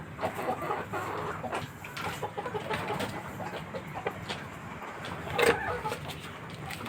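Free-range village chickens clucking in a yard, scattered soft clucks and calls spread across several seconds over low background noise, with one sharper call near the end.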